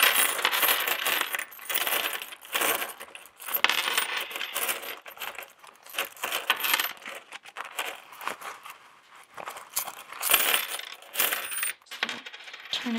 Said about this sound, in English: I'm going to grab my coins